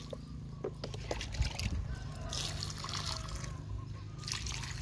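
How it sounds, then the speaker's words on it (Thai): Nutrient solution poured from a container onto kale growing in a planter, a continuous trickling, splashing stream close by with faint rustle. "ราดรสบำรุงด้วยสูตรนี้พร้อมกับใส่ปุ๋ยคอกหมักลงไปด้วยนะ"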